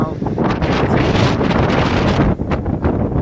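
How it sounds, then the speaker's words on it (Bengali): Strong wind gusting outdoors, a loud continuous roar buffeting the microphone with surging gusts throughout, briefly easing near the end before rising again. "অবস্থা দেখো কত জোরে হাওয়া দিচ্ছে।"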